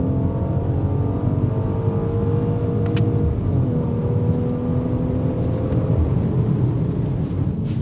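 A Mercedes-AMG GLC 43 pulls hard at full throttle on a road, its engine note rising in a steady, loud drone that holds close throughout with no talking over it.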